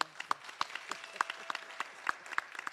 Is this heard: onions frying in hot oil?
no